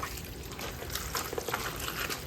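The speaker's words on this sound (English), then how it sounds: "We're going to take another gallon of spring water and we're going to pour that over" A gallon of spring water poured over napa cabbage for homemade kimchi, a soft, steady splashing and trickling of liquid, fairly quiet and close, with no voices.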